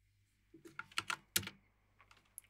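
Quiet computer keyboard typing a password: a short burst of soft, close keystrokes, then a few scattered final taps.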